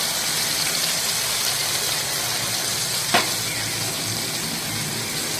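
Ground chili, turmeric, coriander and cumin fry in a pan with water, making a steady, moderate sizzle and one brief scrape of stirring partway through, without talk.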